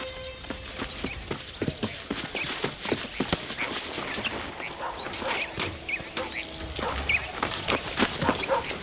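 Horse hooves clip-clop in a steady rhythm at a moderate distance in Red Dead Redemption, with light ambient outdoor sounds in the background.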